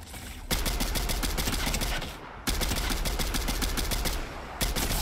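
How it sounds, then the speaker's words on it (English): Rapid gunfire in a video game, sustained bursts of dense shots that stop briefly and resume, loud and close, filling most of the stretch. "Oh, I'm getting sniped at."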